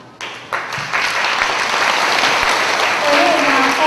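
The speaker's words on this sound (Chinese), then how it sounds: "只是咱做伙用拍手来娱乐耶和华。" Church congregation clapping hands together during Sunday worship, a steady dense wash of applause from many people that builds after a brief start and holds throughout, with faint voices mixed in.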